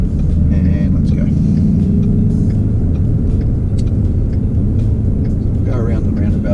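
A 2017 Ford Mustang GT V8 with a manual gearbox pulls away from a roundabout, its loud steady engine rumble building under throttle from inside the cabin, with a voice talking over it.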